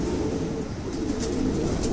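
A prized pigeon in Khulna, Bangladesh coos close by in soft, low repeated calls over a steady background hum.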